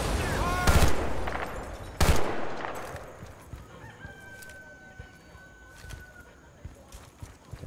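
Two loud gunshot-like bangs ring out, then a rooster crows in the background amid faint clicks and scattered game sounds, in the video game Battlefield: Bad Company 2.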